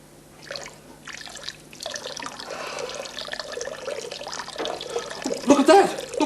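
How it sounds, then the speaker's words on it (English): Bathtub water draining out in the video game Hunter, a steady trickling, gurgling wash that swells louder toward the end, with a few brief bright splashes near the close. "The water's running out. The tub's going to empty."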